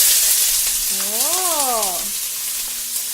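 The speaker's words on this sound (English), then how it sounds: "Alright, it's popping and sizzling already." Chopped onion frying in a hot pan while cooking chicken biryani, a loud bright hissing sizzle throughout, briefly overlaid by a person's exclaimed voice in the middle.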